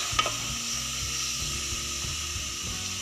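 Mushrooms, a mix of two local varieties, fry with chili paste in a pan for a northern Thai stir-fry, giving a steady sizzle with soft stirring scrapes and a couple of brief clinks near the start.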